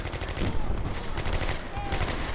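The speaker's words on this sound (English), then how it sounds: "we are close enough that they started firing" German gunfire in Combat Mission: Beyond Overlord crackles as rapid, dense bursts of rifle and machine-gun shots, fairly close and continuous across a couple of seconds with no talk over it.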